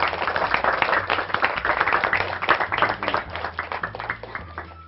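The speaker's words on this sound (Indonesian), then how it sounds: "Tepuk tangan buat kita semua." A high school class clapping hands together in a classroom, a lively, uneven patter of many claps close by that keeps up throughout.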